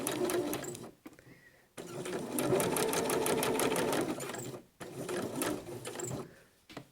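Sewing machine stitching cushion fabric, a fast steady mechanical whir and needle clatter running in bursts with brief pauses between seams.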